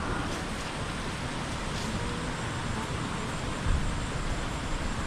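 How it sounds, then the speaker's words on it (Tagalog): Rain falls steadily outside where cattle are kept, a dense, even hiss of drops that stays constant with one small soft thump partway through and no talking. "Yung sa labas oh, nagpa-ulan-ulan na."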